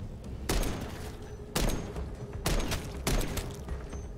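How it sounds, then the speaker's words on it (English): Heavy gunfire from a gun in Call of Duty MWZ, four loud, punchy shots spaced roughly a second apart, each a sharp broadband crack with a thick low thump and short ringing tail over steady game ambience. "It's a meaty thwack to it every time you shoot."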